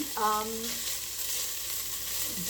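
Garlic sizzles in a pan for a pasta with spicy Italian sausage, cauliflower and black olives, a steady close hiss of frying that holds throughout, with a brief voice at the start.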